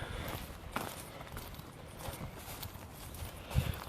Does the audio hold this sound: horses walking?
yes